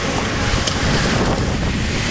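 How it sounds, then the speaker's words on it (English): Strong wind buffeting outdoors in dry desert country, a steady loud rushing roar with no breaks. "Oh, settle down now. Wind."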